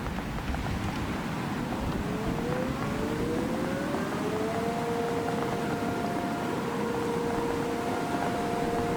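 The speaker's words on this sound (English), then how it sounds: "The tornado siren is similar. It sounds like a siren." A tornado siren in a video game tornado mod rises slowly in pitch and then holds a long steady wail, heard over a constant noisy background without any talk.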